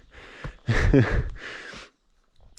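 A hiker breathes heavily while climbing a steep mountain ridge trail in the Japanese Southern Alps, with a few close, ragged exhales and gasps separated by short pauses.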